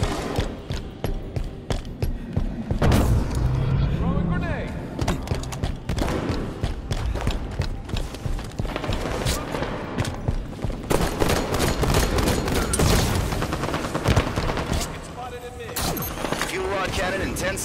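Rapid bursts of gunfire crackle almost nonstop in Halo 5: Guardians arena play, mixed with explosions and voices talking over the chaotic battle noise.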